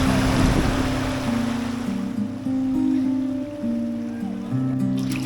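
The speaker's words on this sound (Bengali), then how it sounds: "প্রচুর পানির স্রোত, ওপর থেকে পানি আসতেছে এবং পানির ঢেউয়ে প্রচুর শব্দ হচ্ছে" Strong water current rushing and breaking over white stones in a river at Sada Pathor in Sylhet, a loud continuous roar with steady low hum and wind buffeting the microphone, no speech.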